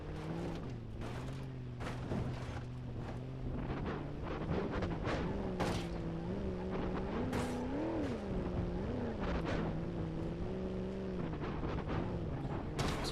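Engine of a randomized truck in the BeamNG driving game, a continuous droning motor whose pitch rises and falls with throttle, broken by repeated sharp knocks and bangs, fairly faint overall.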